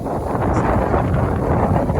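Strong wind buffets loudly and steadily across the microphone on a melon farm, a dense roaring rush with no voices.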